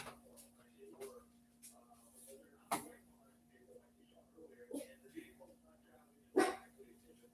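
A dog barks in several sharp, separate bursts spread through the scene, with quieter yips in between. People talk in the gaps between barks.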